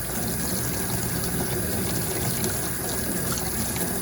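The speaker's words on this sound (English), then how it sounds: "This is the only running hot water in the building" Tap water running steadily from the only hot-water faucet in a building into a separate container, a continuous broadband rush and splash at close range, no voices.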